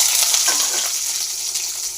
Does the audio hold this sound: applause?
no